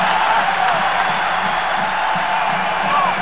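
A packed college basketball arena crowd roars as Penn State rallies against Michigan in 1993, a loud, sustained wash of cheering and shouting that stays dense for the whole stretch.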